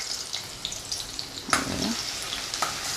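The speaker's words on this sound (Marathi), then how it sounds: "थोडा लसूण भाजत आला का मग मिरची आणि कांदा घालून घ्यायचा" Garlic frying in hot oil in a pan, a soft continuous sizzle with a few sharper crackles and a brief clatter partway through, recorded close without speech.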